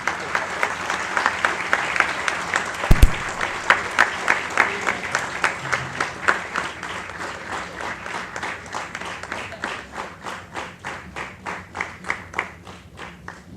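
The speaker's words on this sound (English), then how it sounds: "Can we have a round of applause?" Audience applause at a university sports academy orientation program, at first a scattered crowd clapping, then settling into slow, rhythmic unison claps at a steady beat, with a brief loud thump midway.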